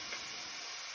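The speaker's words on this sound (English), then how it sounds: "I got the onion starting to fry." White onion frying in a pan gives a steady, dense sizzle and hiss throughout, close and fairly quiet, with no talk.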